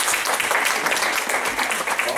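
A church audience claps in a steady, dense patter of many hands, moderately loud and close, with a speaking voice faintly underneath.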